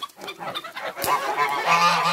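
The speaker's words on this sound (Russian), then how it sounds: "Гуси уже вот такие большие." Several geese honk close by in overlapping, nasal calls, a busy chorus of short squawks and longer honks.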